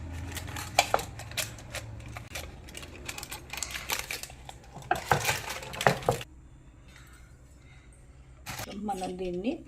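Homemade badam katli lifted out and flipped in a pan gives a run of sharp clicks and scraping knocks, most dense early on, then a quieter stretch and a few final clatters.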